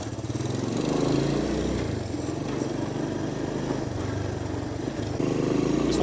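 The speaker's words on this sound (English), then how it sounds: "This one's tuned well. Has a nice low idle." A 1984 Honda ATC200ES Big Red three-wheeler with a semi-automatic transmission runs at a steady, low, rumbling idle close by, holding an even tone the whole time with a slight rise near the end.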